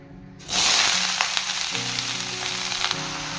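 Mixed vegetables drop into hot oil in a kadai for a restaurant-style sabzi, bursting into a loud, steady sizzle that keeps crackling close up.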